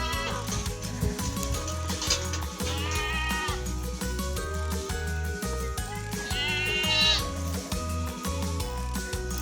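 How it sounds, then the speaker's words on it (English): Goats bleat in short wavering cries over bright, busy background music, with a couple of distinct bleats standing out above the steady accompaniment. "Next up, we have goats."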